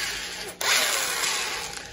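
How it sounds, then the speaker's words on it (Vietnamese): A Matech mid-size electric drill with a 10 mm plastic chuck, used for driving screws into metal roofing sheet, spins up after a brief pause into a loud, steady whir that holds to the end, with no talking. "Con này là con khoan nhỡ nhé, con này bắn tôn nhé."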